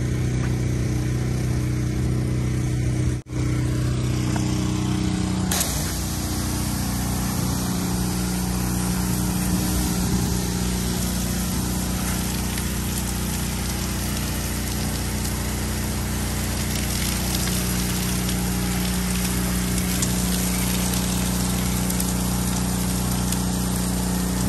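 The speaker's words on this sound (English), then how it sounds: "So what we're gonna do now, guys, we're gonna rinse the windows down." A 2.5 GPM pressure washer rinses the windows of a stucco house, giving a loud, continuous motor drone with a steady hiss of spraying water throughout and no talking.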